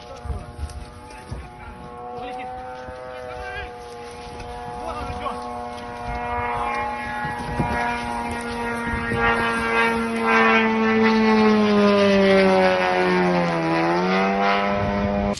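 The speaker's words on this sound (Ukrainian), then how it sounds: "прилетів ще один безпілотник і влучив у цей самий дім" A Russian attack drone flies over a damaged apartment building in Kramatorsk, Ukraine, giving a loud, steady engine drone that rises and wavers in pitch as it passes, heard over outdoor background noise.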